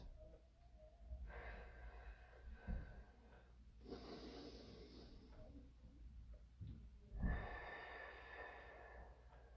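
Controlled, deliberate breaths during a seated home workout come in three slow, audible inhale-exhale cycles, close and breathy, with no talking over them.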